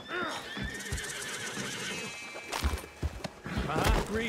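A horse in Red Dead Redemption 2 whinnies near the start, followed by hoof thuds and clopping with other movement and game noise, with a louder whinny near the end.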